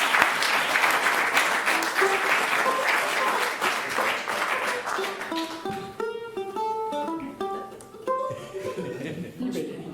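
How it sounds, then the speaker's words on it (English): Applause from a house concert audience at a bluegrass gathering in the Hudson Valley, dense clapping that fades after about five seconds as plucked string notes and talking take over. "We'll do one more round of applause for the Lens for having us here in the Hudson Valley Bluegrass Association."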